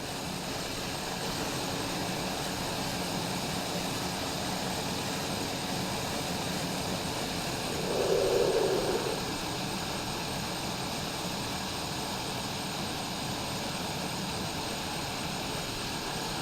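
A TBM900 turboprop engine in a flight simulator drones steadily at close range, its broadband roar and whine holding constant throughout, with a brief swell partway through as the propeller is moved to feather.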